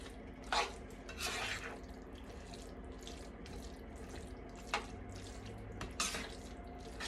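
About half a cup of starchy pasta water is poured into a creamy Italian sausage and poblano pasta sauce, making a faint, steady trickle with a few soft splashes.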